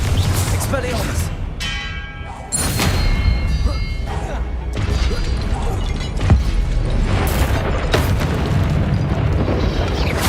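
Deep booming explosions from the Confringo spell in the Hogwarts Legacy video game, several heavy thuds and blasts in a spell-casting fight, heard under a voice speaking.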